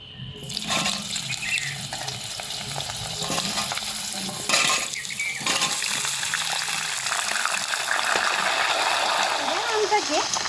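Mango pieces sizzle and fry in a pan with mustard seeds while being stirred, with a steady hiss, scraping spoon strokes and a few clinks throughout.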